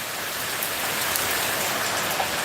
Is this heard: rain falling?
yes